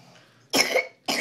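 A young boy gives two short, sharp coughs up close during a doctor's visit, with a brief pause between them.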